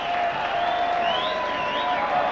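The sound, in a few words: crowd cheering as Saints rugby team takes field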